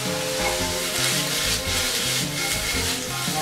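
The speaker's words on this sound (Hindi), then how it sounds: "अब इसमें पनीर अच्छे से रोस्ट हो जाएगा" Paneer pieces roasting with garlic in a hot pan give a steady, close sizzle with soft scraping and rubbing of a spatula against the pan, continuous throughout with no talking.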